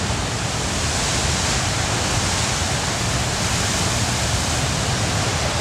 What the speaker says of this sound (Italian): Il fiume sta esondando in continuazione.